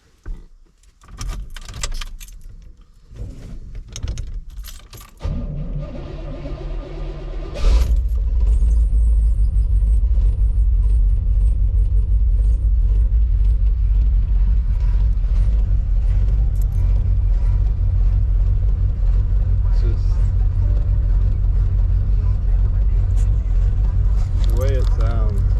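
A 1987 Chevrolet Silverado with a 350 throttle-body-injection V8 is started cold with a choppy idle. Voices and handling noises come first, then the engine fires and settles into a loud, steady rumbling idle close by.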